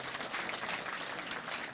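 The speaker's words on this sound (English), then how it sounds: "One more round of applause." Audience applause at a fall speech night after a debate, a brief, steady wash of clapping heard from within the room at moderate level.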